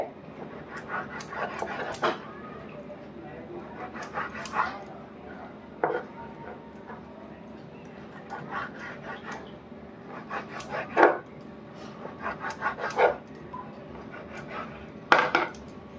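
Knife cutting boneless chicken into small pieces on a board, sharp irregular taps and clacks near and fairly loud, with quiet gaps between bursts and no talk.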